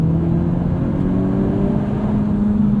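Loud, sustained synthesized engine drone from a 2021 Honda Civic Type R Limited Edition above 5,000 RPM, a smooth, slightly artificial, digital-sounding whine, steady throughout with no voices.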